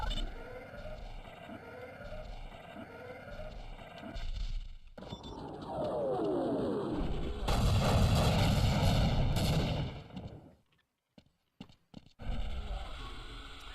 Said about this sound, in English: So I can order airstrikes?